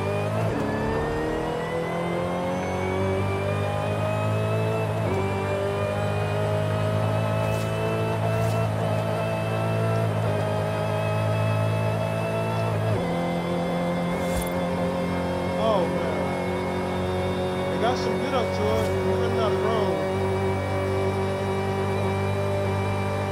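A Dodge Demon in a Gold Rush build, driven in Forza Horizon 5, hums with a steady engine note that rises and falls with acceleration and revving, loud and continuous, with a voice talking over it throughout.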